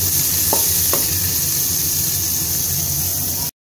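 Chopped ginger, garlic and green chilli frying in hot oil with cumin seeds, a loud continuous sizzle and hiss with a couple of sharp spoon taps against the pan early on, then stopping abruptly.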